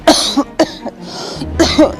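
An elderly mother coughing in a home, several harsh, close coughs in irregular bursts with short pauses between them, loud and alone.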